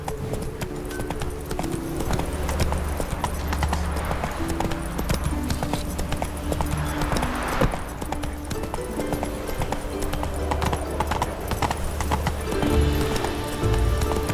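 Geralt's horse Roach in The Witcher 3: Wild Hunt, hooves clip-clopping in a steady rhythmic gait for a long stretch, with a brief whinny partway and game music and ambience underneath.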